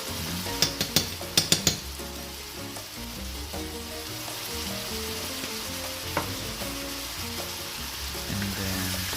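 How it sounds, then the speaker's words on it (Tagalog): Aromatics for tinola sauté in a hot pan, a steady crackling sizzle with a few sharp utensil taps against the pan at the start and occasional stirring scrapes. "And then saute it."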